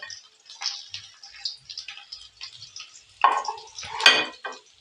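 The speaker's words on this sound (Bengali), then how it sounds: "এবার এগুলোকে আমি একটু নেড়ে চেড়ে ভেজে নেব" Whole cumin, dried red chillies and bay leaves sizzle and crackle in a hot pan while a utensil scrapes and stirs in short, uneven strokes, with a louder clatter toward the end.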